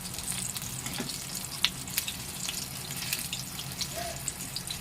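Tomato bhajiya, Surat style, frying in hot oil: a steady, dense sizzle with scattered sharp crackles and pops, close up and continuous, with no one talking.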